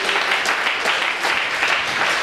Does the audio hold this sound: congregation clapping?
yes